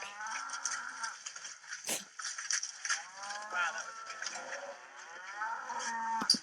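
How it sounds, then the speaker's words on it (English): Cattle moo repeatedly, several overlapping low calls from nearby animals, while they are given an antiparasitic pour-on drawn as a line down the back; faint clanks and knocks sound between the calls. "This is livestock, cattle, just getting their oopsies, antiparasitics poured on."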